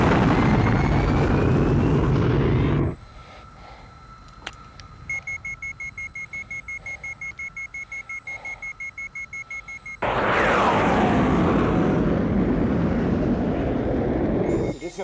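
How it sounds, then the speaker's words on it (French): A fighter jet cockpit warning alarm in a 1991 action film beeps in a rapid, regular electronic pulse for several seconds, set between loud bursts of roaring jet engine noise. "Alarme engagée."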